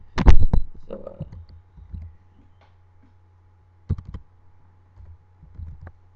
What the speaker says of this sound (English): just click it, run